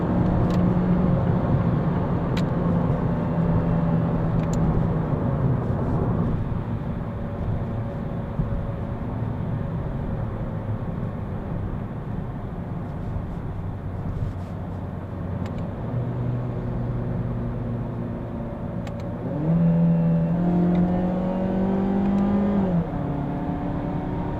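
A 2019 Mazda Axela hybrid holds its gear as the engine drones steadily from inside the cabin, its pitch climbing in a rising rev toward the end, with no talk.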